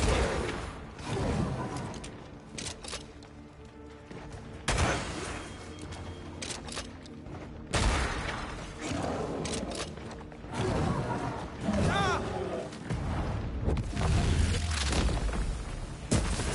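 Lantern rifle fire in Banishers: Ghosts of New Eden rings out as a series of loud, booming shots in dense bursts over about sixteen seconds, mixed with game effects and a busy battle backdrop.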